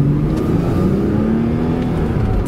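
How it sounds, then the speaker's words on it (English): The flat-six engine of a 2009 Porsche Cayman coupe revs up under acceleration, a loud, rising whir and growl climbing smoothly in pitch, close and alone. "That free revving flat six."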